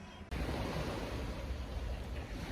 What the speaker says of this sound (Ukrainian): Ми приїхали на пляжі в Хадіао.